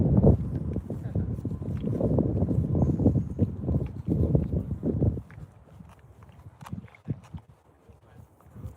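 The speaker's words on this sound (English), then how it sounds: "Here comes our wind again." Wind gusting outdoors at a fishing spot, buffeting the microphone in loud rumbling bursts for several seconds before easing to lighter gusts, with scattered clicks and knocks.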